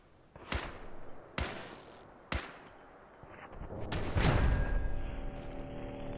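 Roof-mounted turrets firing in Fallout 4: three sharp, loud shots spaced about a second apart, then a denser rumbling burst of gunfire with rattling debris, no talking.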